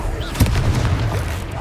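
A Confringo blasting spell explodes during combat in the Hogwarts Legacy video game: one loud, deep boom with a sharp attack, followed by a rumbling low-end tail and steady background battle noise.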